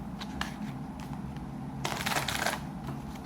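Cards being shuffled close by, with soft rustling flicks that build into a dense riffle burst partway through, quiet and without voices.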